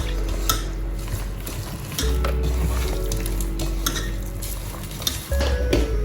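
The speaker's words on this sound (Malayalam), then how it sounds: "ഞങ്ങൾ കുഴയ്ക്കുക, നല്ലോണം നന്നായി മിക്സ് ചെയ്യുക." Beef being mixed and stirred with salt in a pot, with close scraping of a utensil against metal, clinks, and a soft sizzle underneath throughout.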